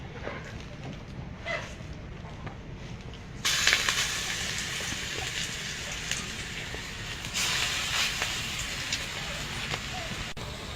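Coriander leaf fritters made with rice flour and gram flour fry in hot oil, a soft crackling hiss that swells suddenly louder partway through and continues steadily, with brief clicks of handling.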